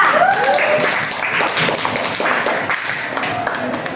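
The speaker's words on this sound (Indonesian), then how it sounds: "tepuk tangan untuk kelompok 2" Schoolchildren in a classroom clap for a group of classmates, a fairly loud, uneven patter of applause mixed with excited voices and chatter.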